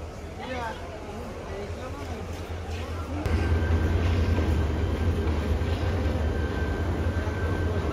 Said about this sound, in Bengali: আমাদের মহানগর এক্সপ্রেস কিন্তু দিয়ে দিয়েছে 4 নম্বর প্ল্যাটফর্মে, ঢাকা থেকে ছেড়ে যাবে চট্টগ্রামের উদ্দেশ্যে